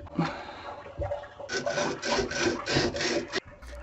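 Copper pipes being scrubbed clean with an abrasive tool during a hot water tank replacement, giving a run of rhythmic rasping strokes, about five in quick succession, close and fairly loud, after some scattered handling noises.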